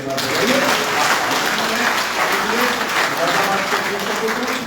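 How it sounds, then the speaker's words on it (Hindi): Loud, dense applause from the audience at a budget seminar in Moradabad, a sustained even roar of clapping with voices mixed in throughout. "जो सब कुछ दे रहा है उसके लिए जोरदार तालियां"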